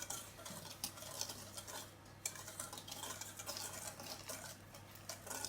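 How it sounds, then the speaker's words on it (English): Dry cupcake ingredients being whisked in a bowl, a quiet steady patter of quick ticking strokes against the sides, fairly close with no talk. "Now we've finished mixing our dry ingredients."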